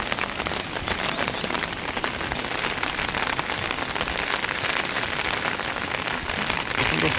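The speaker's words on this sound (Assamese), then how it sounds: "বৰষুণ দি আছে দেখিছেনে" Steady rain falls on surfaces outdoors, a dense, even patter close by and fairly loud throughout, with no voices.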